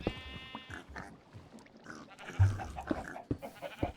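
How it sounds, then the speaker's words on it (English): Bleating farm-animal mob sounds in Minecraft SkyFactory 5, a few short complaining cries rising over a busy, muddled game background. "All these disgruntled cow sounds,"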